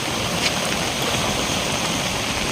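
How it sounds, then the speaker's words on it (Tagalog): Strong river current surging during Typhoon Ferdie, a steady loud broadband rush of churning water that fills the whole clip with no talk over it. "ang po ng agos ng tubig dito sa ilog oh"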